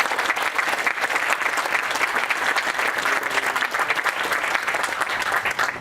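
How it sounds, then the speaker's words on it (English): An audience at a groundbreaking ceremony gives a round of applause. The clapping is dense and steady, fills the whole stretch at a moderate level, and carries no talking over it. "Let's give them a round of applause."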